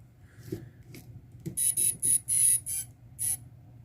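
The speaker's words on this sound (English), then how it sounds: "Beeper works." A quadcopter's beeper sounds in a run of six loud, shrill electronic beeps with short gaps between them, preceded by a few faint clicks and low background noise.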